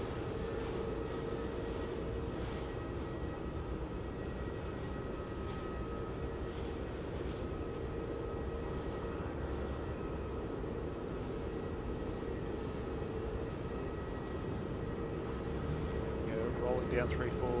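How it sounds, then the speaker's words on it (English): A Jetstar Airbus A321 departing runway 34 at Melbourne airport, heard as a steady, distant broadband jet rumble throughout, with people talking over it. "we have that Jetstar A321 given clearance to depart"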